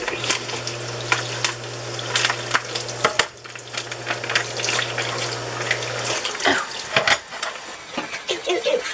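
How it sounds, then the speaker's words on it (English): Cold water runs from a kitchen tap over raw chicken, a steady close splashing with clattering handling sounds and a constant low hum that stops partway through. "I'm going to turn the cold water on"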